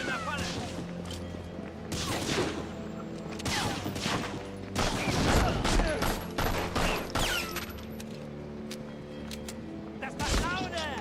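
Gunfire in the PS2 game Medal of Honor Frontline, with repeated bursts of rifle and machine-gun shots, some loud and close and others farther off, under intermittent talking.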